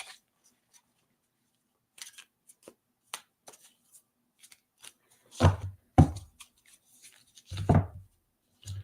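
Oracle cards being shuffled and handled, with soft scattered taps and flicks building into a few louder riffles near the end.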